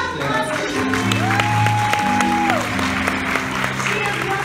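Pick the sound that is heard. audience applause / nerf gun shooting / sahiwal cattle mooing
audience applause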